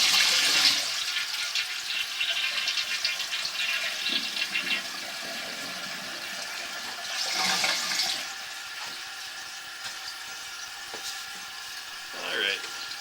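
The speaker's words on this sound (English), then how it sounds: "first I want to flush a toilet right here just to kind of give us a quick clean" A house toilet flushes in a home being inspected, a rushing swirl of water up close followed by quieter refilling trickles and a few faint clicks, without speech.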